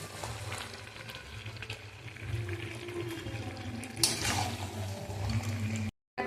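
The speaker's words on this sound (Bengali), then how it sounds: "আর একটু কষিয়ে এবার আমি জল দিয়ে দেবো" Water goes into a pot of braised meat curry with potatoes and garlic, a soft sizzle and bubbling that swells into a brief splash and hiss, fairly quiet and close.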